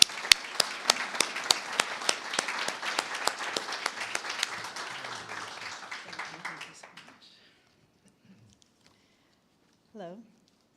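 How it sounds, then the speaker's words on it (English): An audience at a board of education meeting claps in a big round, crisp close claps that thin out and fade to silence after about seven seconds, followed by a brief voice. "Let's give her a big round of applause."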